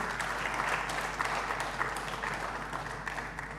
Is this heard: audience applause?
yes